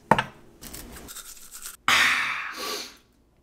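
Brushing teeth with a new toothbrush and fluoride toothpaste: close, steady scrubbing strokes in two bursts, the second louder and brighter, ending abruptly in silence.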